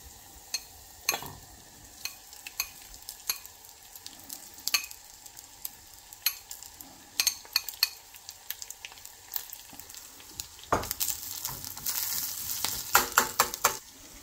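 Idly uppittu with grated coconut and coriander is stirred in a pan, a spoon scraping and clinking against the metal in uneven strokes over a soft sizzle, getting busier toward the end, with no talking.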